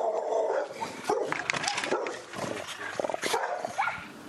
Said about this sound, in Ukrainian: Це ті самі собаки